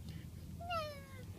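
A young child imitates a kitty cat's meow, one short rising-then-falling vocal meow in a quiet room with faint background.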